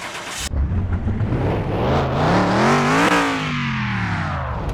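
A 1985 Ford Bronco's engine cranks and catches, then runs and revs up and down in a rising and falling drone, loud and close with no talk.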